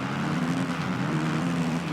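Dirt bike engines in the Monster Energy Supercross 2 racing game drone steadily at a race start, a continuous buzzing roar with no breaks.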